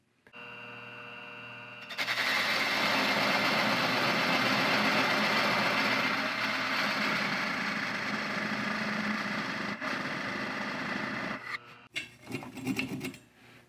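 A wood lathe duplicator slowly turns a chess piece copy, giving a steady low motor hum under a continuous raspy scraping of the cutter on wood, with a few knocks and uneven rubbing near the end.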